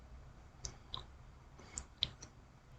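Computer mouse clicks while working in TeXstudio, several small sharp clicks spaced irregularly over a quiet room hum, faint and close.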